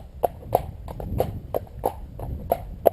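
A horse ambling home at a slow walk, hooves clip-clopping on a hard surface in an even, unhurried rhythm, about nine distinct hoof strikes over a quiet background.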